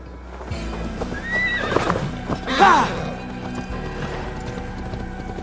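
A horse whinnies in Assassin's Creed Valhalla, a rising neigh near the middle over clip-clopping hooves and soft mechanical game ambience, with no voices.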